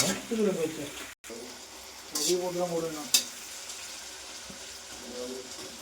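Onions sautéing in a pan for a country chicken fry, a moderate sizzle with clinks and scrapes of a spatula, while people talk over the cooking.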